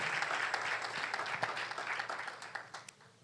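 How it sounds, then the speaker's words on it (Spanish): A church congregation applauding during a Spanish-language sermon, brisk dense clapping from many people that fades out over a few seconds. "Denle ese aplauso al Señor."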